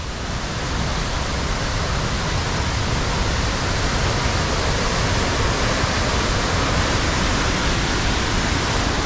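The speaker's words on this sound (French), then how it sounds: "on a marché à peu près 1 heure pour arriver devant une petite cascade à la mode" Small waterfall reached after an hour's walk, a steady dense roar of falling water, loud and close, unbroken throughout with no voices.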